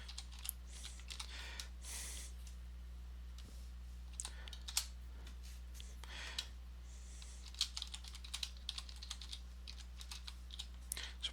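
A password typed on a computer keyboard while setting up Linux Mint, with a rapid, uneven run of close key clicks and taps over a low background hum.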